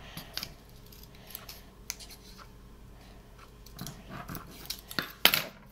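Scissors cut paper while a Pompompurin random craft box is made, close and quiet, with a run of separate crisp snips and rustles and a louder cluster of cuts near the end.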